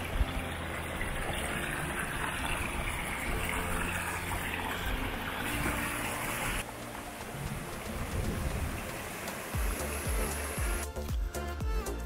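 East Dart River running low over rocks near a waterfall on a moorland night, a steady broadband rush of flowing water that stays loud throughout, shifting in tone partway and joined by brief clattering near the end.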